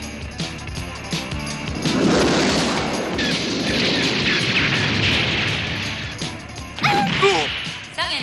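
A spaceship is hit: a heavy crashing blast erupts amid rumbling impacts and debris, followed by further smashes and crackling bursts, loud and chaotic.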